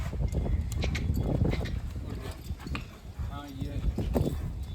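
Horse hooves clip-clopping in a steady trot, close by, mixed with outdoor noise while people talk and exclaim over it.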